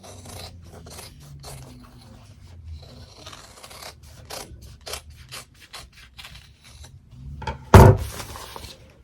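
Scissors snip around embroidered fabric from an in-the-hoop mug rug, a series of short, close, irregular cuts and rustles with one louder crunchy snip near the end.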